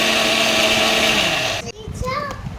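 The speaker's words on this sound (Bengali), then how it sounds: "এবার মিক্সিতে এক এক করে বেটে নেব" A mixer grinder grinding soaked rice for pitha at home, a loud steady whirring drone that cuts off abruptly partway through, followed by a voice.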